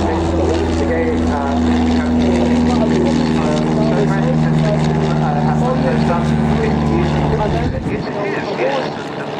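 A red and yellow propeller aircraft takes off for an air display at RAF Cosford, its steady droning engine roaring loud and near for most of the stretch before fading abruptly near the end.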